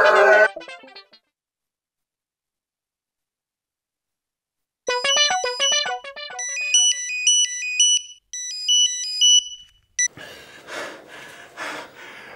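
A mobile phone ringtone plays a bright melodic pattern for several seconds after a silent gap, and then breathing and rustling sounds follow.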